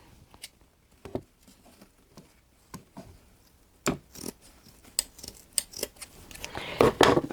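Scissors snip through ribbon material while a rustic Christmas porch-leaner bow is made. Close, crisp cuts come irregularly, a few sparse snips at first, then quicker, denser cutting and rustling toward the end.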